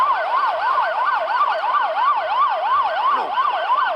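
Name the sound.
police siren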